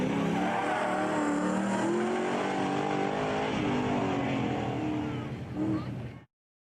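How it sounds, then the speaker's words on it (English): Race car on a mountain course with a hairpin, engine roaring loud and close while tires squeal sharply through the corner, the sound swelling near the end before cutting off abruptly. "A little bit of tire squealing"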